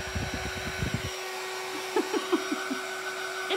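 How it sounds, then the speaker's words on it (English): Hair dryer blowing air onto a fabric ladybug craft, a steady whirring hum with a constant tone, while a person talks briefly at the start. "I'm just kind of drying it real quick."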